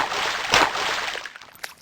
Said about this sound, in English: And that's the sound of boots splashing in spring.